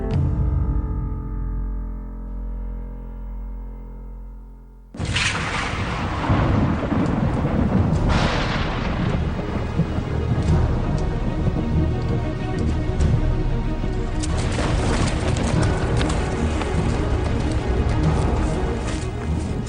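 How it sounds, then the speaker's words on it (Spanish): A sudden thunderstorm breaks over a forest in the Harz mountains, thunder rumbling and cracking loudly as heavy rain pours down steadily, following a stretch of soft sustained music. "se ven sorprendidos por una tormenta repentina en un bosque próximo a Sessen, en las montañas Harz."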